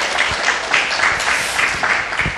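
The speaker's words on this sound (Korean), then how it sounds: "박수 한번 드려주세요." Audience applause at a live talk event, a steady, dense wash of clapping from many hands filling the room throughout, loud and continuous with no voices over it.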